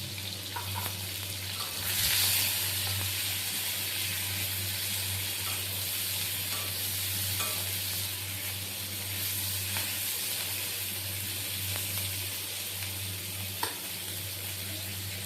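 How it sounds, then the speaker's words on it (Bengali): Chopped onions frying in hot oil in a pan after prawns, a steady close sizzle with occasional stirring scrapes and brief louder bursts, no talking. "ওই তেলেই দিয়ে দেব পেঁয়াজ কুচি। পেঁয়াজগুলোকে পুরো ব্রাউন করে ভাজতে হবে।"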